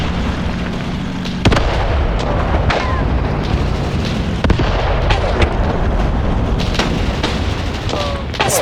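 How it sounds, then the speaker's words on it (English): Grenade blasts and gunfire in the war game Graviteam Tactics, with loud repeated booms and sharp cracks over a constant dense rumble of battle noise that continues throughout. "My men are very enthusiastic about throwing grenades at this thing"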